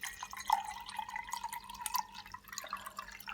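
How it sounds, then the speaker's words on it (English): Water pours into a coffee maker's reservoir, a thin continuous trickling stream with a rising bubbly tone, close and fairly quiet. "pour some water inside"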